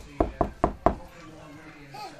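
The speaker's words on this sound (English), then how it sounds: "Can I come in? Knock, knock." Four crisp, evenly spaced knocks on the door of a toy house during a toddler's play, close and distinct, followed by a quiet pause with faint background activity.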